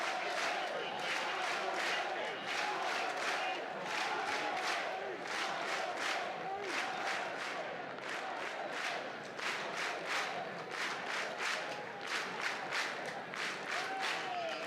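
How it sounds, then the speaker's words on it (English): Crowd at an NCAA baseball super regional game, Alabama versus St. John's, chanting a pitcher's name: a loud, sustained rhythmic chant with clapping filling the whole stretch, close and continuous. "A little Tyler Fay chant."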